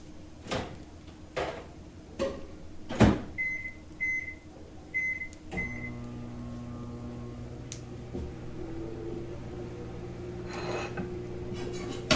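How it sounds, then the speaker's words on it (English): A few clicks and button beeps, then a microwave oven blanching broccoli for about a minute hums steadily with a low electrical drone. "I'm going to put it in the microwave"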